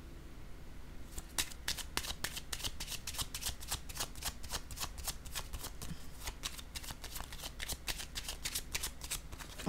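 A deck of cards is shuffled over and over, producing a quick, steady run of crisp riffling flicks at close range against a quiet background.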